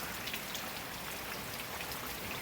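Steady, dense rain pours down near a campfire burning outdoors on a rural farm property, a continuous close hiss of drops on surfaces with no voices.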